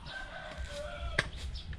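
Birds chirp and call faintly in the background, with a soft ambient hum and a sharp brief click partway through.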